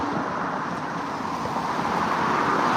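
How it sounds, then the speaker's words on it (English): Steady, loud car traffic noise from a busy road, a continuous broadband roar with no break and no voices. "The cars are noisy."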